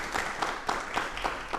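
Studio audience applauding on a televised Hindi talk show, a dense wash of clapping held steady from start to end with no voices over it.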